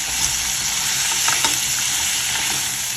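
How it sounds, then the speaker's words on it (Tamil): Dried red chillies fry in a pan for chutney, giving a steady, close hiss and sizzle with faint stirring, without talk. "நான் ஒரு 6 வரமிளகாய் போட்டுக்கிறேன்."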